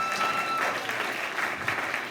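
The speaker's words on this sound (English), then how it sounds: "One more round of applause for Kate." Audience applause at a big band concert, a brief dense burst of clapping heard at a steady level, with faint ringing tones lingering early on.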